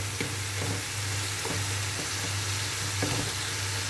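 Food sizzles steadily in a pan during a home-style Turkish breakfast preparation, a constant dense hiss with faint stirring scrapes and no voices.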